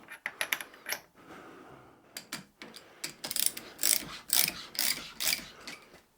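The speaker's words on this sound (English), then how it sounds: "That's actually an old snap-on ratchet." Clicking of an old Snap-on ratchet being turned while kingpin bushes are installed, a close series of quick ratcheting bursts with short pauses between strokes, growing busier and louder toward the end.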